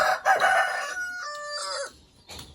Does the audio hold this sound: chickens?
yes